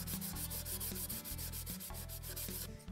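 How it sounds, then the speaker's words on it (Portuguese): Hand sanding of an MDF wood piece with sandpaper: steady, continuous close-up rubbing strokes in a fast repeating rhythm, loud and alone with no talking. "Vamos lixar."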